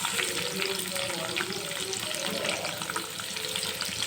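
Cumin and mustard seeds fry in hot oil with curry leaves and onions, giving a steady, close, dense sizzle with light crackle and stirring throughout.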